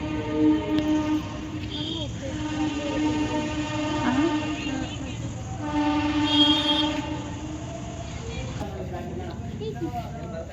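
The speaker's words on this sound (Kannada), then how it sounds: "ಎಲ್ಲಿದೆ ಎಲ್ಲಿದೆ ಟ್ರೈನ್ ಹಾರ್ನ್ ಹಾಕ್ತೈತಲ್ಲ" Loud, drawn-out train horn blasts sound twice over rumbling rail noise, with people talking nearby.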